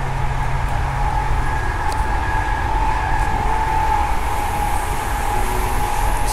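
Transperth A-series electric train running to Yanchep in daylight, heard from inside the carriage: a steady rumbling hum with an electric motor whine and faint track clatter throughout.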